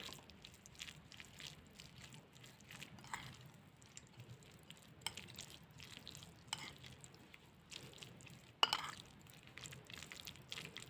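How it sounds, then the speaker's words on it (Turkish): A sauce with a clove of garlic, made for a crunchy Chinese-style pickle, is stirred in a bowl: soft, quiet scraping and sloshing with faint clicks, no voices. "Şimdi bu sosumuzu iyicene karıştırıyoruz."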